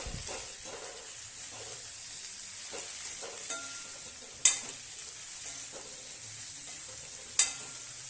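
Bitter gourd sautéing with turmeric and salt in a pan gives a soft, even sizzle, with two sharp utensil clicks standing out and no talking.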